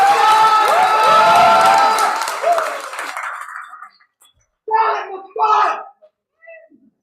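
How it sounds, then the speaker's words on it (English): An open mic audience claps and cheers loudly, with whoops and a host's voice carried over the crowd. The noise fades after about three seconds and leaves short bursts of speech against near silence. "Clap as Messiah comes to the mic. Keep clapping, keep clapping."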